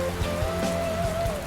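Rain falls steadily in a dense, even patter, with light drops tapping close by and a faint tonal hum running underneath.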